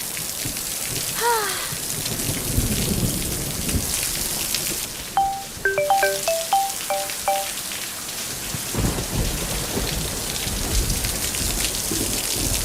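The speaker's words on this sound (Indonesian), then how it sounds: "kalau hujannya sampai malam" Heavy rain pours down steadily throughout, with rumbles of thunder and some musical tones briefly rising over the downpour midway; no one speaks.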